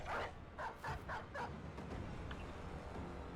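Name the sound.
dog barking in a video game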